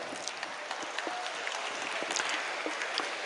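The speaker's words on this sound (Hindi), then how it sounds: "ये मेरे आने पर जो आपने घनघोर तालियां बजाई हैं" An audience at a mushaira poetry gathering in Mallepally, Hyderabad claps loudly and steadily, a dense, sustained round of applause with no break.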